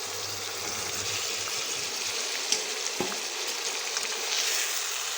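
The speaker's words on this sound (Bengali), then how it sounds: "এবার খুব ভালো করে মশলাটা ডিম কাঁঠালের বিচির সাথে কষিয়ে নিব।" Spice paste frying with eggs and jackfruit seeds for an egg curry: a loud continuous sizzle with scattered small pops and a few soft stirring knocks.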